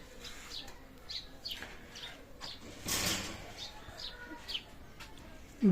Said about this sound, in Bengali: আমি আপনাদের ভালো ভালো মানের কবুতর সামনে দেখাবো